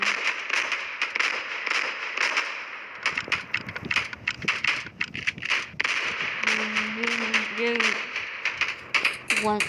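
Sharp explosion bursts and crackling pops from the Roblox game Special Ops Simulation, mixed with rapid clicks and blasts, with people talking over them.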